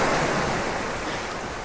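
Big waves of water splash and wash in a steady, loud rush in the video game The Last Guardian, a continuous broadband surf-like roar with no talking over it.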